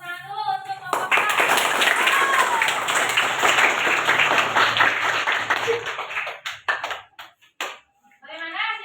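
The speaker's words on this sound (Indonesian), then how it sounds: "Beri tepuk tangan dulu untuk kelompok 2" A classroom of primary school children claps for a group of classmates, a loud, dense burst of many hands that starts abruptly, runs for several seconds, then thins into scattered claps before a teacher's voice returns.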